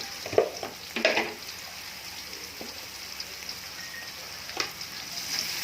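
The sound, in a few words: stir-frying seasoning with sugar and mushroom stock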